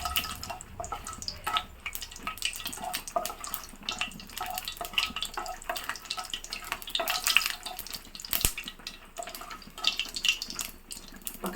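Mustard seeds spluttering in oil that was not yet fully hot, a dense run of sharp crackles and pops close by, uneven in rhythm with bursts of louder snaps, no talk.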